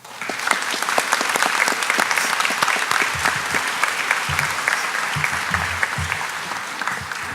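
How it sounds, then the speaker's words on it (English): Sustained warm applause from a large graduation audience fills the whole stretch, dense and steady, with a few faint voices mixed in. "Please give a warm round of applause for Dr."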